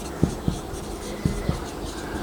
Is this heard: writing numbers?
yes